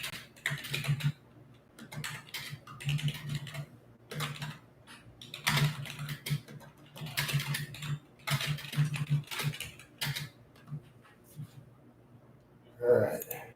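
Typing on a computer keyboard, close and clear: bursts of rapid key clicks stop and start across the stretch, with quiet gaps and a low murmur of speech.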